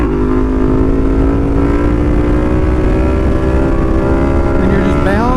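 A Yamaha FZ/MT series motorcycle engine hums at a steady, loud, close pitch, then revs sharply upward near the end as the throttle is opened for a wheelie.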